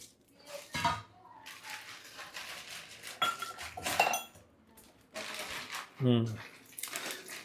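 An onion being cut in a kitchen while fish curry is prepared, with irregular knife clicks and clatter of utensils, and people talking over the sounds.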